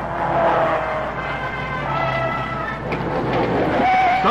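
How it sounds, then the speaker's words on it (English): A race car skids at the Indy 500 in an old newsreel, a loud continuous roar of engine and tire noise with squealing tones rising near the end. "Suddenly there's a skid"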